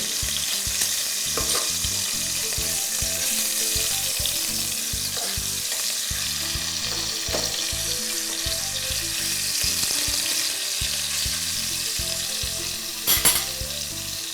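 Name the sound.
stirring food frying in ghee and oil mixture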